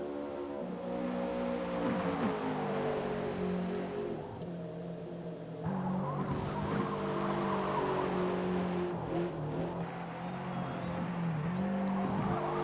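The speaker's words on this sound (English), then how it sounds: "Car's just sliding a little bit, you know, just enough to make it interesting without scaring yourself to death." Toyota GR86 Cup race car lapping Homestead track with a slightly sliding rear, engine droning steadily with shifting pitch and faint tire scrub, continuous and fairly close, no talk.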